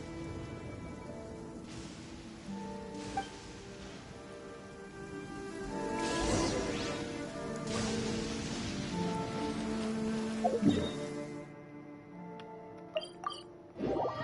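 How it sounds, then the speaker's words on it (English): Steady rain falls in Genshin Impact, a soft even hiss that runs through the whole stretch beneath sustained musical tones, with a few brief sharper taps near the end and no talking. "The rain has stopped."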